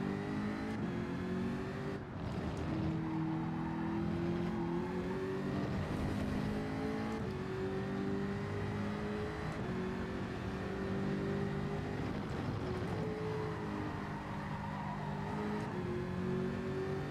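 Jaguar race car in the Gran Turismo video game, its engine droning loud and steady at high revs down a straight, pitch rising and dipping slightly through gear changes with no talk.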